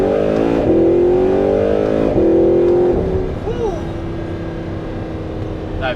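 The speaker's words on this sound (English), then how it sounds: "That V8 sounds so good" Audi R8 with its V8 engine revving hard through acceleration from inside the car, rising in pitch, dipping briefly at each gear change, then settling into a steadier drone as the revs drop; a voice speaks over it.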